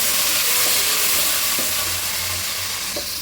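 Onions sauté with salt in a pan with curry leaves and green chilli for a vanjaram fish curry, giving a close, continuous frying hiss with light stirring scrapes and no voices.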